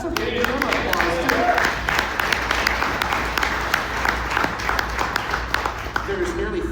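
An audience at the Corvette Bowling Green Assembly Plant applauds GM volunteers with steady, sustained clapping that fills the room, while voices carry over it.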